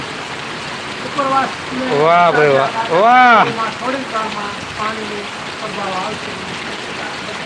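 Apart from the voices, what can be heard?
heavy rain falling in Parvadi village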